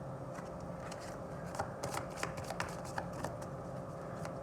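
Tarot reading cards shuffled and drawn by hand, a soft run of quick papery flicks and taps at close range, steady and fairly quiet with no talking.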